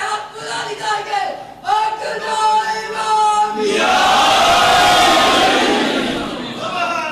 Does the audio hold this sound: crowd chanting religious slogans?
yes